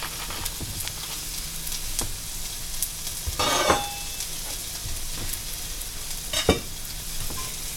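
Ginger frying in a pan over medium-high heat gives a soft, steady sizzle with occasional brighter crackles and a few stirring clatters, heard close and alone.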